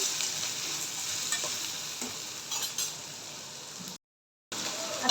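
Finely chopped raw potato fries in a pan while being stirred, a close steady sizzle with soft scraping, broken by a brief silent gap near the end.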